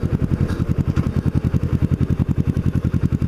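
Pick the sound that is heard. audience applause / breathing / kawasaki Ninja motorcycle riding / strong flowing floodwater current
kawasaki Ninja motorcycle riding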